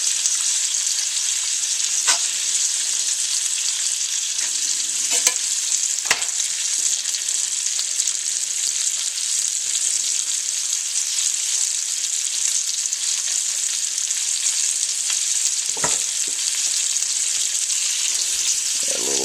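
Homemade hillbilly hot sauce sizzles in a pan with a steady, close, bright hiss of frying, broken by a few soft clinks and scrapes of stirring, and no voices.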